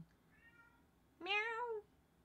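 A cat meows twice: first a soft, faint call, then a louder, clearer meow lasting about half a second, over quiet room noise.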